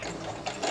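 A sewing machine stitching pleats in a cloth face mask, a steady fast mechanical whir running the whole brief moment at close range.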